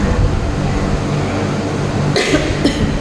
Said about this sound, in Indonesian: sedang batuk ini